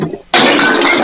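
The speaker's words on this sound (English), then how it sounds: "I throw a glass bottle, missing them but hitting the wall behind them." Glass bottle thrown against a wall shatters in one sudden loud crash after a brief quiet moment, and the bright breaking spray carries on to the end.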